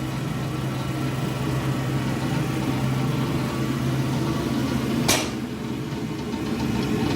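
A Gentleman Janitor coal stoker runs with a steady low mechanical hum and drone, its auger turning and air blowing, constant and close with one brief sharp click partway through.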